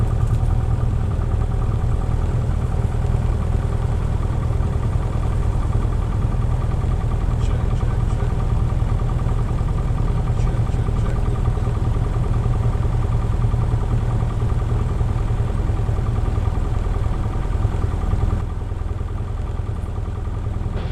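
A 100-horsepower Cessna aircraft engine idles steadily after start, a loud, constant low drone with no change in pitch that continues unbroken and alone for the whole span.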